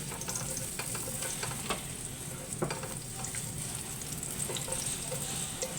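Garlic sizzles and fries steadily in a hot pan for a mushroom and alugbati sauté, a continuous crackling hiss with occasional sharper pops and stirring clatter, close and fairly quiet, with no talking.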